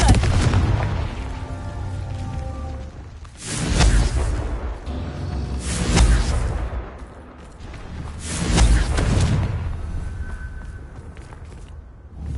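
Confringo fire spells bursting in Hogwarts Legacy: three or four heavy booming blasts spaced a few seconds apart, each swelling and fading over a low rumbling game backdrop.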